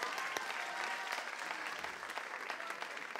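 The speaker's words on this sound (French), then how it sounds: "Donc, celle qui l'a attrapé, on peut l'applaudir." Audience at a secondary-school talent show applauding a volunteer girl: dense, sustained clapping from a hall full of people, even and moderately loud with a few sharper claps standing out.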